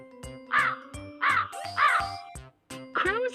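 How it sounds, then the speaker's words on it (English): A crow caws repeatedly in loud, close, harsh calls spaced about half a second to a second apart, with a faint tinkling chime in the background between calls. "Crow."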